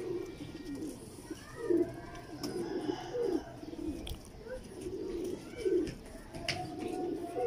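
An old teddy pigeon coos in a repeated series of soft, throaty, rolling calls spaced a second or so apart, close and clear over a faint background with occasional light chirps.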